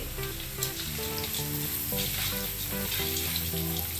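Sev deep-frying in hot oil, a dense, loud, continuous sizzle with crackling bubbles throughout, heard close up with no talking, as noodle-like gram-flour strands cook for Diwali sev laddoos.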